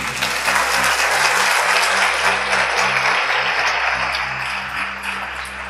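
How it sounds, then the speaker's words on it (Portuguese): A church audience gives a loud, dense round of applause, with continuous clapping filling the space and a low steady hum running underneath. "Bota a salva de palmas para Jesus aí"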